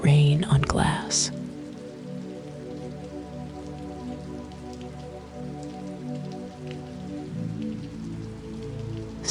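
Rain patters steadily on glass in a soft, continuous hiss of dense droplets, calm and even throughout; a brief sound at the very start precedes the rain.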